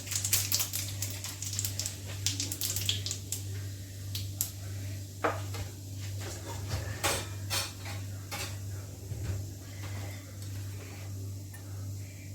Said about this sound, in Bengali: এখন আমি এই যে জিরা ফোড়ন দিলাম